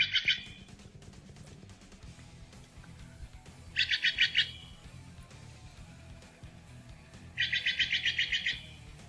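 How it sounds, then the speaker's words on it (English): Steller's jays call from a played-back recording in three separate bursts of rapid, harsh, repeated notes. Each burst is spaced a few seconds apart over a faint low hum. "How about some Stellar Jays? These are my favorite birds."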